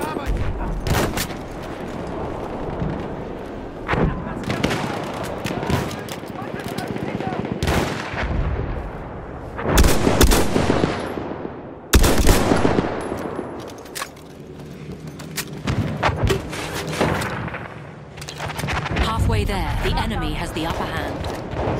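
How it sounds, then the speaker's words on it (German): Submachine gun fire and other battlefield gunshots in Battlefield 1, repeated bursts and sharp reports, some near and loud, through a long chaotic stretch with game voices shouting underneath. "Feindliche SMG da drüben!"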